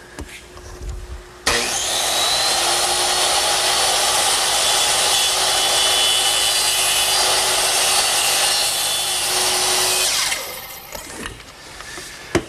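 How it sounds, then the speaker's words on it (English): Power saw making short angled freehand cuts in wood for a Shaker two-drawer blanket chest, one loud continuous whining cut lasting about nine seconds, close by, ending abruptly with faint shop noise around it. "make these short angled cuts freehand"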